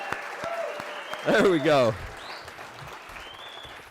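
An audience at a Texas faith and family day event gives a short burst of applause and cheering that swells briefly and then fades, heard under a speaker's amplified voice.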